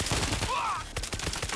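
Gunfire in the video game World War Z: rapid, loud, close burst of shots running throughout a short moment, with a brief shouted voice over it.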